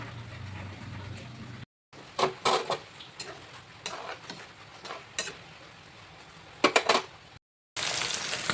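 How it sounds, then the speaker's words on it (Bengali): Fish frying in a pan in a home kitchen, giving a steady hiss broken by sharp crackles and pops, with two short silent gaps and a louder sizzle at the end. "এখন মাছ ভেজে নিচ্ছি"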